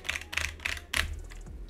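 Typing on a Roccat Vulcan low-profile keyboard with Roccat Titan mechanical switches: quiet, close clusters of crisp key clicks in quick bursts, with no talking.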